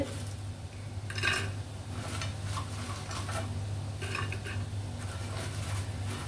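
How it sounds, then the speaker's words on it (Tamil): Crisp ragi murukku studded with sesame seeds crunches and cracks as it is served, giving a few sharp crackling bursts over a steady low hum. "சத்தம் கேக்குதா? அவ்வளவு கிறிஸ்பியா மொறுன்னு இருக்குது."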